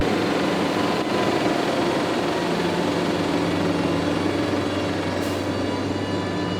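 A JCB Fastrac 4220 tractor drives and turns with all four wheels steering, its engine giving a steady, loud, continuous drone with a low hum throughout.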